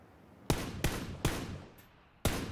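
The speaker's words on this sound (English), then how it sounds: "More shots." Four sharp gunshots ring out in PUBG, spaced irregularly, each a loud crack with a short decaying tail, with a faint extra pop between the third and fourth.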